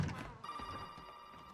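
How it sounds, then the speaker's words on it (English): An old telephone rings in Resident Evil 7, a steady electronic bell tone sounding at moderate distance through the brief moment with faint game ambience around it. "We don't need to answer no phone calls."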